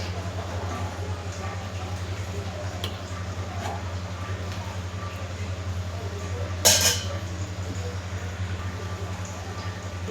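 A utensil stirs turmeric in a cooking pan with light metallic scrapes and clinks, one sharper clatter near the end, over a steady low kitchen hum.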